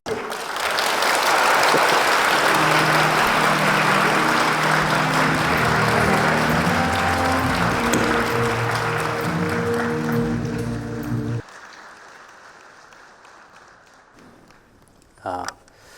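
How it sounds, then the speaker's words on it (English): Warm applause from a university lecture audience greeting a visiting Buddhist teacher, dense clapping from a large crowd sustained for about eleven seconds with a low hum beneath it, then stopping abruptly to leave quiet room tone and a brief bump. "let us welcome Great Khenpo to lecture with the warmest applause"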